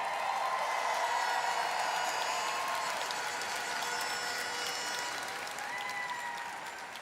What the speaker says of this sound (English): Please give a round of applause for Paula Sugar.